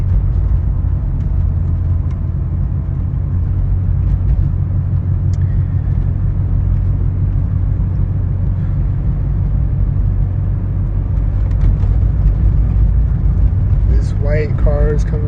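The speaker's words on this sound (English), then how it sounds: "White car is coming up" A white car drives by near the edge of a parking lot, a steady close road rumble of tyres and engine throughout, with a brief faint tonal sound near the end.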